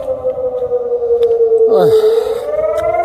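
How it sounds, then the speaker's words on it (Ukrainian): A loud, wailing air raid siren in Saltivka, Kharkiv, Ukraine, in the evening, holds a long tone that slides downward, with a brief voice or sound overlapping midway. "Зараз 10 хвилин на восьму, лунає повітряна тривога."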